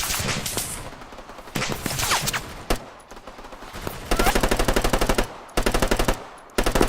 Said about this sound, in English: we're taking heavy fire at our location.